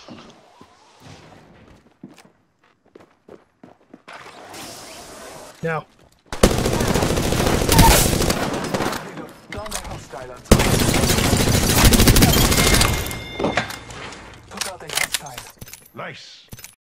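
Bursts of automatic gunfire from the video game Apex Legends, loud rapid rattling volleys in two long stretches with scattered single shots, while players talk over quieter moments.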